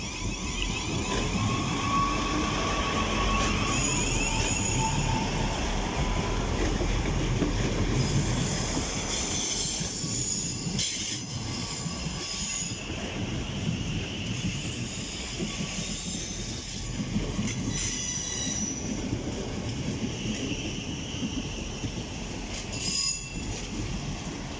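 A Class 159 Sprinter diesel train runs through Clapham Junction with a long, steady rumble of wheels on rail, a high squeal at the start and faint clicks over the joints, close and continuous for the whole stretch.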